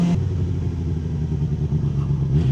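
A 2025 Suzuki GSX-R600 engine idles rough and low as the bike slows under engine braking, a close, uneven rumble that sags and wavers as if about to stall.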